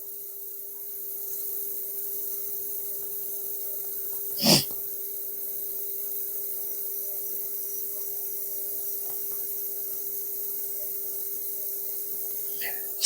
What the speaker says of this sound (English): I went on one of my sneezing binges.